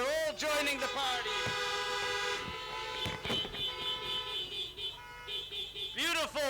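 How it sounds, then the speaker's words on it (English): Car horns honk together at an outdoor menorah lighting, a loud overlapping chorus of toots and long blasts that swells and fades, with voices heard among them. "This is the only time we like to hear your horns honking."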